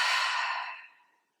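A single long meditative exhale, a soft breathy sigh that starts full and tapers gradually into silence over about a second, close and alone.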